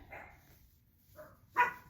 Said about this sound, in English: they're barking at I don't know what